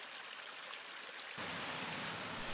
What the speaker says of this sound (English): to walk alongside the river to the village of Chapel Stile.